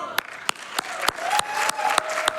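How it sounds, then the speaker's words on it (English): Scattered clapping from a small audience at a Games Done Quick speedrun event, with a few sharp claps standing out over a steady patter and a faint tone running underneath. "I'm not used to getting applause."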